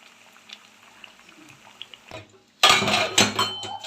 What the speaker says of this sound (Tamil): ரசம் ஒரு கொதி வந்ததுக்கப்புறம் இறக்கிடலாம்